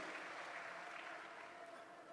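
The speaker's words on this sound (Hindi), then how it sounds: "हम सबके बीच में जोरदार तालियों से उनका अभिनंदन करें।" Loud applause from a gathering of saints welcoming a swami at the Maha Kumbh in Prayagraj, dense continuous clapping from a large crowd, steady and fading slightly toward the end.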